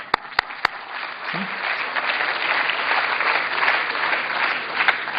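Seminar audience applauding in a hall, a dense steady clatter of many hands lasting several seconds, preceded by a few sharp knocks at the start.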